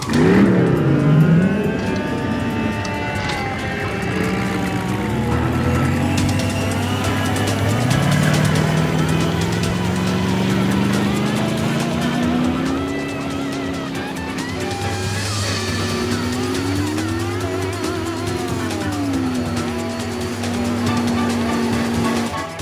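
An offshore racing speedboat sets off on a kilo speed run, its engine roaring loud and close with a steady drone that rises and falls in pitch as it revs and races away.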